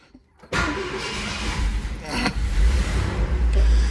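A 1961-66 car engine cranks and catches after a brief quiet moment, then settles into a loud, steady, slightly rough running sound close by, with a faint voice in the background.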